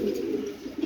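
A pair of mukhi pigeons cooing close by, a low, soft, continuous coo that rises slightly at the end, with no voices.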